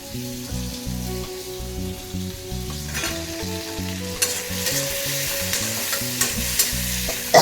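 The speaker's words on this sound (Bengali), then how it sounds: "ঠিক আছে, এটা ভাজা ভাজা হোক একটু।" Shrimp fry in hot oil in a wok, crackling and sizzling steadily up close while a utensil stirs and scrapes with occasional sharp clicks.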